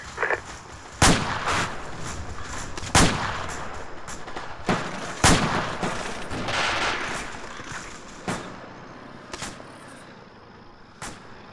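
A video game battle against a BMP armored vehicle brings loud, close gunshots and heavy artillery-like blasts at irregular intervals, with sharp single reports and bursts rising over a rumbling background.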